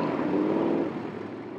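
A racing boat engine roars steadily and loudly while leaving a lagoon, a dense broadband drone with a faint hiss that eases slightly toward the end, with no talk over it.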